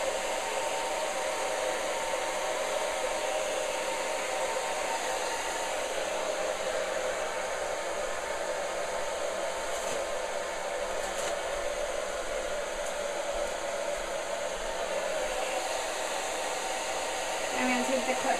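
A hair dryer blows heat steadily and closely onto a glued hair extension track, a continuous loud rushing whoosh with a constant high whine that runs unbroken throughout.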